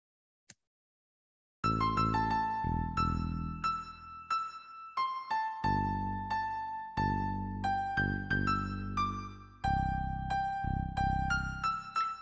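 An AI-generated instrumental music piece shaped to sound less tense, with sustained chords and a clear repeating melodic line, loud and continuous with no voices.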